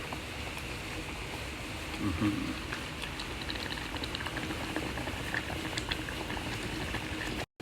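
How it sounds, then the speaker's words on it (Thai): Broth for a Thai yen ta fo noodle hot pot boils steadily, a continuous low bubbling and gurgling simmer with a brief louder burble partway through, quiet and close. "โอ้โหเดือดเลยนะครับ นี่นะครับก็จะเป็นหม้อไฟของเรานะครับ"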